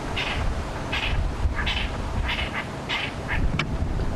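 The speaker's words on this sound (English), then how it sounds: "I've spotted some very pretty birds, and they're making a lot of noise." Lilac-breasted rollers chasing a hoopoe on a safari drive, giving a run of loud, harsh, repeated calls in short bursts, close by, over a steady outdoor background.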